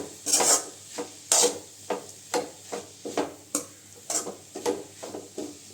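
A spoon stirs grated coconut into a banana flower stir-fry (vazhaipoo poriyal) in a pan, making repeated scraping strokes against the metal in a steady rhythm over a faint sizzle, close and with no voices.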